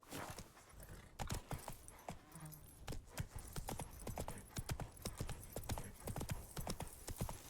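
Roach, the horse in The Witcher 3, gallops with rapid, close, rhythmic hoofbeats that pound steadily through the whole stretch, with faint game ambience and no voices.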